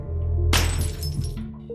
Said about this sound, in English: must locate and smash 4 other similar vases around the house